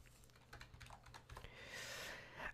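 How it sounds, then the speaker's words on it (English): Computer keyboard typing while entering a value in Adobe Photoshop: a quick run of soft key clicks, then a brief steadier burst, close and moderately quiet, with no talking. "So I'll just type that in here."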